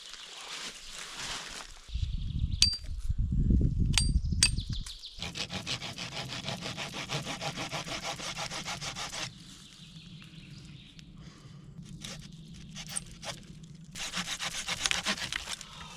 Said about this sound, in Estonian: see Mildteki saag mulle väga ei meeldi. Võiks paremini saagida.